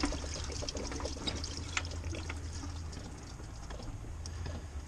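Coolant drips and trickles from a block heater on a 12-valve Cummins truck engine into a bucket outdoors in the cold, a faint continuous trickle with scattered soft drops.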